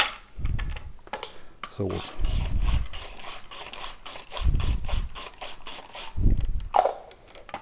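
Potatoes being sliced on a mandoline for potato bird nests, giving a fast run of repeated clicking, rasping strokes up close, with a voice talking in short bursts between them.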